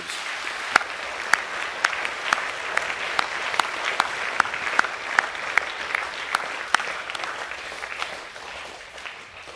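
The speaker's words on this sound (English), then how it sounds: "can we please give Cody and Elijah another round of applause for their messages?" Steady applause from a school academic awards assembly audience, a dense wash of clapping with a few sharp, louder claps standing out, gradually tapering off toward the end.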